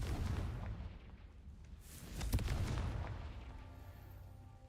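Confringo spell explosion in Hogwarts Legacy, a muffled boom rising midway over a steady rumbling game backdrop, fairly faint overall.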